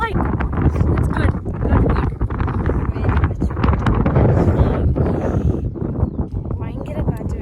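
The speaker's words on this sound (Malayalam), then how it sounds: "ഭയങ്കര കാറ്റുള്ള." Strong wind buffets the microphone at a waterfall picnic spot near Aktobe, a loud continuous roar and rumble filling the whole stretch, with voices briefly audible beneath the gusts.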